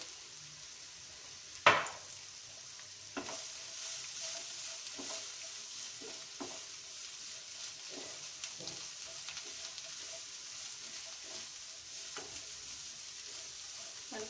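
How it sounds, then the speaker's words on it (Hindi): Chicken seasoned only with black pepper frying lightly in a pan, a steady soft sizzle running throughout with one sharp burst near the start and occasional clinks of stirring, no voices. "हल्का सा फ्राई करने के बाद इसको उतार लेंगे"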